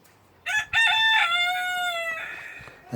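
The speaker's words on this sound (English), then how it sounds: "Cockerel right on cue" A rooster crows once, loud and close, a long drawn-out call that trails off, with a couple of sharp knocks before it.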